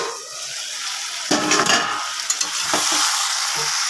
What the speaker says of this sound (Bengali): মাখা মাংসটা দিয়ে দিয়েছি, এবারে ভালো করে কষাবো